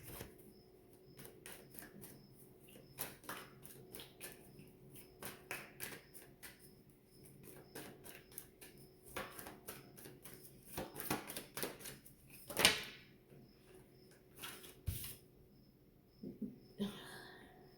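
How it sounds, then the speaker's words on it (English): Tarot cards are shuffled in quick, soft riffling bursts close up, with light taps and slaps of the deck between them at a quiet level. "I'm gonna shuffle the seven of cups."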